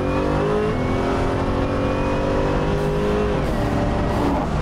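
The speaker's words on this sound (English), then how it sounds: "that's as easy as smashing on the gas pedal" Buick Regal pro-touring build engine revving hard under heavy throttle, a loud continuous roar with rising harmonic whine that climbs steadily in pitch, close and dominant throughout.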